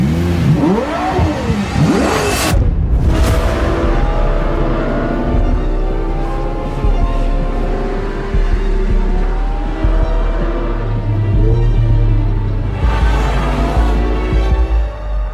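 A car engine revs and rumbles past nearby, the exhaust note rising and falling as it drives by, with a second surge later.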